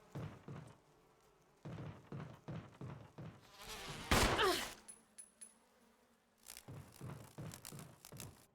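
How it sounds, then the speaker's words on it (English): Insect-like buzzing of a bee swarm in the Resident Evil Remake video game, a brief rushing burst mid-clip set among repeated dull thumps and clatter of in-game action. "Get these bees off of me."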